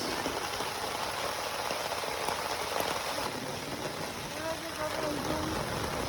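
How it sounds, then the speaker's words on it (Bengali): Steady rain falls on a village pond where cows are bathing, a dense, even hiss of drops hitting water and surfaces that stays constant throughout. "গরুর গোসল হচ্ছে বৃষ্টির পানিতে বৃষ্টি বিলাস"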